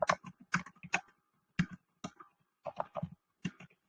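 Quick bursts of typing on a computer keyboard, close and clear, with clustered clicking keystrokes separated by short pauses and no talking.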